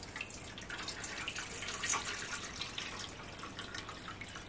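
Water poured from a glass into a bowl of sugar for sesame breadsticks dough, a steady splashing trickle lasting several seconds, close and clear with no talk.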